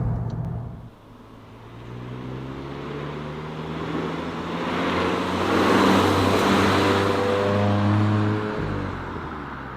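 A 2021 VW Golf 8 GTI cruising at about 100 km/h through a lane change, heard from inside as a steady engine drone with road and wind roar rising and swelling midway, then easing.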